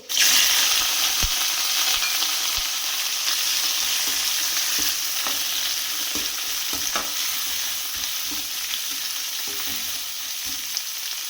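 Onion and curry leaves frying in oil with four dry red chillies for a prawn dinner: a loud continuous sizzle close up, broken by scattered spatula scrapes and taps, with no one talking.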